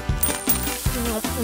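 Several coins clink and drop one after another into a piggy bank, bright metallic rattles in quick succession, close by.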